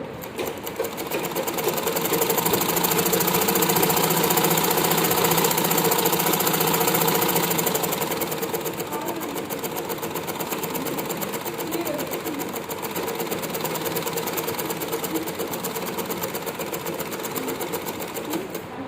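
A sewing machine stitches the side seam of a long frock in a continuous rapid mechanical chatter, close and loud, running steadily throughout and easing slightly partway through.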